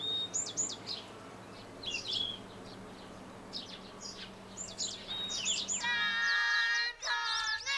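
Bright chirping birdsong in repeated short phrases over a soft outdoor hum in the wooded grounds of an elementary school in Goesan, South Korea, with a denser burst of trilling calls near the end.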